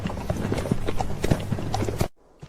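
Horse hooves clip-clopping steadily and close in a dubbed Stone Age fantasy scene, the rhythmic clopping running continuously before cutting off abruptly near the end.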